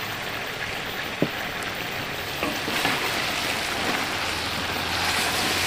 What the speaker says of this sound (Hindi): अब टमाटरों को भी भून लेंगे अच्छी तरह से।